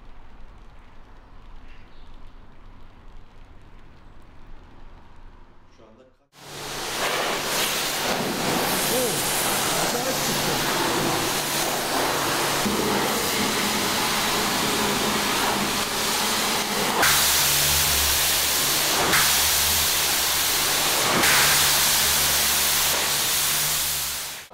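A Renault Toros that has sat in a dusty garage for 14 years is sprayed with water, a loud continuous hissing rush of spray that starts abruptly after a quieter stretch and holds steady, close by.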